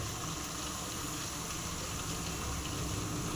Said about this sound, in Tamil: இன்னும் அரை லிட்டர் ஊற்றிடுவோம்